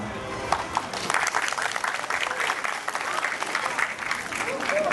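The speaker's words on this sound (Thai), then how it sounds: "ขอเสียงปรบมือให้กับท่านประธานด้วยครับ" Audience applause for the chairman at a project launch ceremony for a housing development in Ayutthaya, Thailand: a steady, dense crowd clapping sustained throughout, fairly close, with faint voices mixed in.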